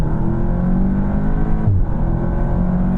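A 350 hp Audi S3 with APR Stage 1 tune and automatic gearbox accelerating in first gear under turbo boost, a loud, close engine drone rising in pitch with a brief dip mid-pull, heard from inside the cabin without speech.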